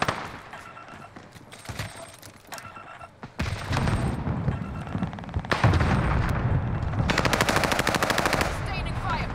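Gunfire from the video game Warzone: loud rapid machine-gun bursts, some sustained and tightly spaced, with booms and other game sounds, while a player talks at times over the shooting.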